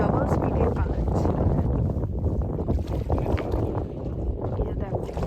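A boat moving through the water at Purbasthali Bird Sanctuary, a continuous low rushing wash mixed with wind buffeting the microphone, with voices talking faintly underneath.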